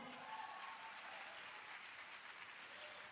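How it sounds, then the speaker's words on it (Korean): A church congregation gives a round of applause during a worship service, heard as soft, steady clapping that stays faint and distant throughout. "하나님께 영광의 박수 다시 한번."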